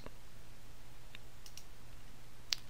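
A few faint, crisp mouse clicks tick at scattered moments against a quiet room hum while someone works in Mnova 12 analysis software, the last click slightly louder.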